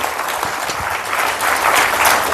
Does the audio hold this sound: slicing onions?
no